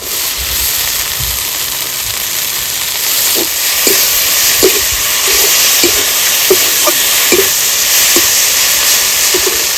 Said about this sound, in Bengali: সব কিছু ভালো করে কষানো হয়ে গেছে, এইবার শাকগুলো দিয়ে দেবো।